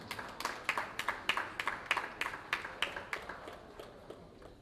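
A live audience applauds at a business conference, a steady round of clapping with sharp, evenly spaced claps that gradually thin out and fade toward the end, with no talk over it.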